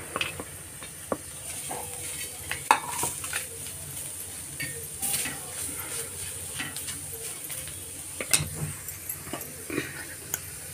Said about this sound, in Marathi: कांदा मग लसूण एकत्र भाजून घ्यायचं.